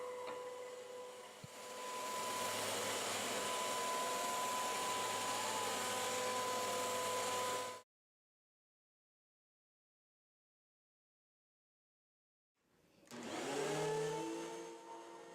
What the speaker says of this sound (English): This vacuum is pretty loud at just over 80 decibels on both carpeting and hard flooring.